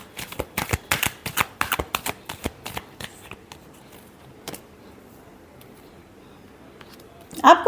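Tarot cards are shuffled in a quick run of crisp riffling bursts, close and dry, that thin out and stop, followed by a brief louder rustle at the end.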